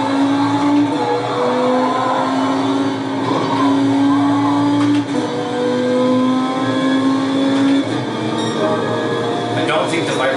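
A Viper race car engine in a racing video game drones loudly and continuously with shifting rev pitch and brief gear-change dips, while a voice talks over it.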